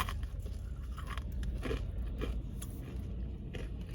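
Hard-shelled Skittles candies crunched and chewed close to the mouth, a series of crisp bites and grinding crunches over a low background hum, with no talk.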